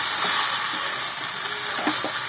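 Vegetables for Bengali shukto are stirred in a hot pan, producing a constant bright, hissing sizzle with a few soft scraping stirs close by.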